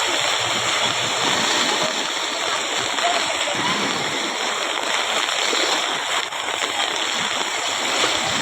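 Turbulent waves on the Meghna river at Chandpur churn in a steady, loud wash of splashing water that runs unbroken and close throughout.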